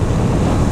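Strong wind buffets the microphone in a steady, loud rush, with a low rumble like surf or water underneath.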